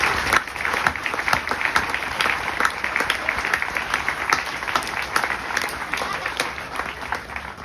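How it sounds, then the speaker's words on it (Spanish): An audience at a tribute gathering applauds for everyone who signed in support. Separate, crisp hand claps sound at a moderate level and keep a loose, continuous rhythm for several seconds. "Así que aplauso para todos."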